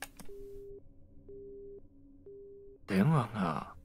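A telephone busy signal from the video game 428: Shibuya Scramble sounds after a call is cut off, with three evenly spaced beeps before a voice starts speaking.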